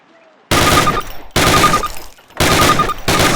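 Three bursts of rapid automatic rifle fire from a Call of Duty training range, each a loud sustained volley lasting under a second, separated by brief pauses.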